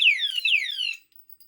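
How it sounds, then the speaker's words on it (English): A piercing electronic siren from an anti-theft alarm padlock rated around 110 dB sweeps downward in two rapid shrill chirps, very close and loud, then cuts off abruptly into silence. "100-something decibel alarm. That's hurting my ears."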